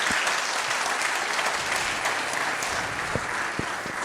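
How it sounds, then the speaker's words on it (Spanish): A church congregation at a Spanish-language service breaks into steady, sustained applause that fills the room evenly from start to finish, a dense crowd clapping with no pauses. "dale un aplauso a Jesús"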